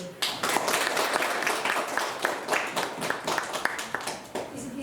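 An audience at a Khakas cultural gathering claps continuously in a dense, fairly loud burst of many hands, with individual claps standing out over a steady wash of applause.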